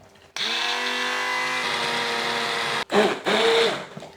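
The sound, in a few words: blender whisking simmered blackberries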